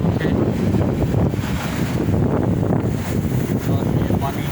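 Strong wind gusting across an open outdoor area in Madinah, a steady, loud rushing roar buffeting the microphone for the whole stretch, with no voices over it.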